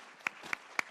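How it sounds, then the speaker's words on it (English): A few sparse, separate claps from an audience at a governance forum, about three distinct hand claps spread across a second, faint and somewhat distant. "Applause, please."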